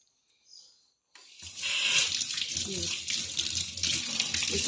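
After a brief quiet moment, water suddenly gushes and splashes steadily into a drum, a loud continuous pour close by.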